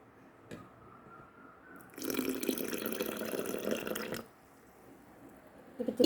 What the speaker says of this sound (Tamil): கொஞ்சோண்டு தண்ணி ஆட் பண்ணிக்கலாம்.